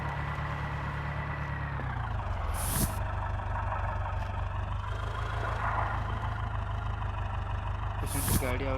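Tractor engine sounds from an Indian tractor video game: a steady low idling drone that shifts pitch partway, with two sharp hissing air-brake bursts.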